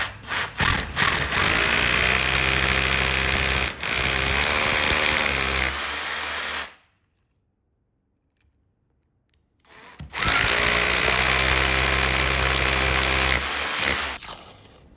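A power drill with a 6.5mm bit whines loudly as it bores through material for several seconds, cuts out into silence, then starts up again and drills on.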